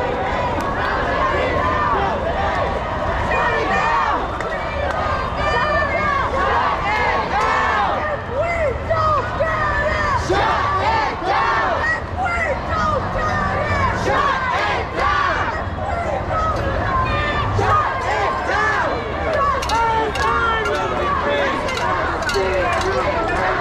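Loud, continuous crowd noise at a New York City street protest, with dense overlapping shouting and chanting voices filling the whole stretch, steady and close, with no single speaker standing out.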